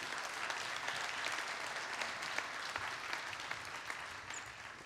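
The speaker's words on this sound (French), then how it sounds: "On peut les applaudir." A conference audience at a retirement summit breaks into sustained, dense applause, a steady wash of clapping that holds for several seconds with no voices over it.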